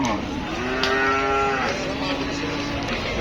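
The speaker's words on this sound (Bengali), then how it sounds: "আর একটা গরু নিয়ে যাওয়া হচ্ছে ফিরত" A cow lets out two long, loud moos close by at a muddy cattle market, one after the other, over faint background murmur.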